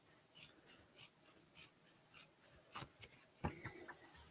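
Scissors snip through denim fabric along a seam line, six or seven short crisp cuts in a steady rhythm about half a second apart, close and fairly quiet, followed by a slight rustle of the cloth.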